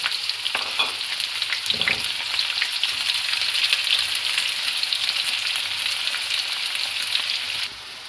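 Chopped onions sizzle and crackle vigorously in hot oil seasoned with cumin, turmeric and dried coriander, a loud steady frying hiss with occasional stirring clatter near the start.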